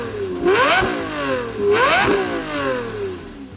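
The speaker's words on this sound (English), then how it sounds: "it's louder and you can hear the V12 engine" A Lamborghini Murcielago LP640's V12 engine revs loudly twice, each rise climbing to a snarling peak before falling back to a rumbling idle, close by with no talking.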